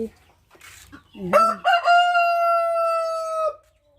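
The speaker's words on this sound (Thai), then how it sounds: "ไก่พันไข่นะคะ" A rooster crows loudly and close by in one long drawn-out call, preceded by a few soft clucks and rustling.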